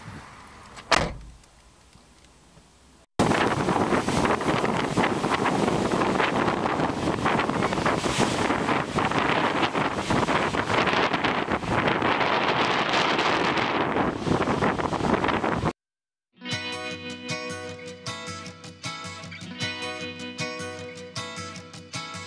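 Strong wind buffets the microphone on a busy bank holiday beach at New Brighton, a loud continuous roar for about twelve seconds after a brief thump, then cut off abruptly by a short gap and a switch to music.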